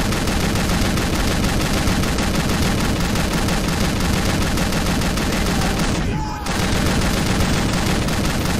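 Dense, continuous gunfire from the Scarface: The World is Yours video game, loud and unbroken with rapid overlapping shots, briefly dipping near the end before resuming.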